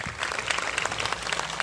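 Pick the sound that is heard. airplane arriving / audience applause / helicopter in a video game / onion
audience applause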